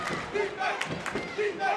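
A high school girls basketball crowd on the Goffstown side roars and cheers in a gym, loud overlapping shouts surging in waves, with a commentator talking over it.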